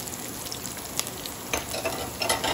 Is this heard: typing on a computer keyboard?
no